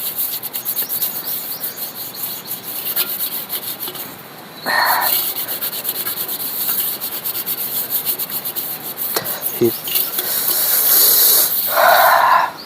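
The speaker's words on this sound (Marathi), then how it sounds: "अजून घासायचं आहे अजून निघेल चकाचक" A metal puja plate being scrubbed clean by hand, a steady, close, continuous rasping rub with brief pauses and surges, heard alone without talk.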